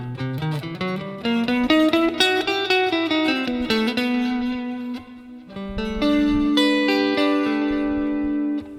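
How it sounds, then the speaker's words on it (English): An effected electric guitar plays an E harmonic minor chord figure with sliding notes, then settles into sustained tones, reverberant and fairly loud, no voices. "the E harmonic minor sound would sound something like this."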